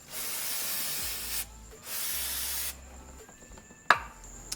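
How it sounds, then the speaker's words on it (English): Brake cleaner sprays in two long hissing bursts to clean up after an oil filter change on a 2017 Honda Civic Si, followed by a quieter pause and a sharp clunk near the end. "don't forget to use some brake cleaner to clean up your mess"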